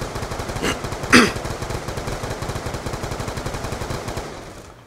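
Rapid automatic gunfire from Black Ops 2 Zombies rattles steadily and loud throughout, with a couple of sharper single shots near the start, then the burst fades out.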